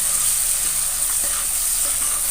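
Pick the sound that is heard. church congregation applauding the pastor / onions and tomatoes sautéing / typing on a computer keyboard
onions and tomatoes sautéing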